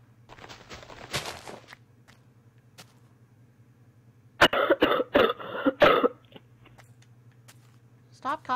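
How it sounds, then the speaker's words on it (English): A burst of coughing rises after a quiet stretch, a few harsh coughs in quick succession over a steady low hum, with faint clicks around it. "Stop coughing, you're interrupting the video."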